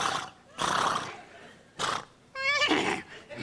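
A voice imitates a horse neighing and whinnying in short, loud bursts with pauses between them, delivered during a lively television interview.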